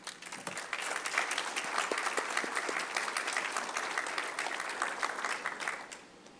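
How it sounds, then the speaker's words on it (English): A council meeting audience applauds local volunteer groups with steady, dense clapping that lasts several seconds at an even level before fading at the end. "I wanted to just have a round of applause for all of these volunteer groups that have helped out"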